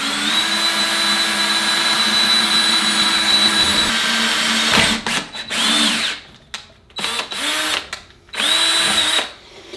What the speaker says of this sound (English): So there's our hole drilled in the tip.